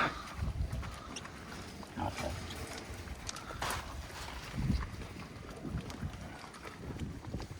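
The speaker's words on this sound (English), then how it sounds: "the poor pigs trying to eat their dinner." Pigs at a farm eating dinner from a bucket feed and hay, heard as scattered close grunts, snuffling and rustling under gusty wind noise, with occasional louder knocks.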